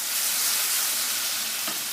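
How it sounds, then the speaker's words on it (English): Apples caramelize in butter in a pan, giving a dense, steady hiss of sizzling with a soft stir near the end, close and continuous. "Just stir the pan around and just make sure it gets all evenly caramelized."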